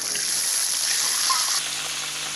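Water poured into a pan of light-brown fried onions while cooking Punjabi sarson ka saag, a steady loud hiss and sizzle with splashing, continuous throughout then easing slightly near the end.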